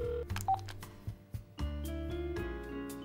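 Telephone dialing tones sound as a handset places a conference call, with a run of short keypad beeps and steady tones heard fairly faintly and alone.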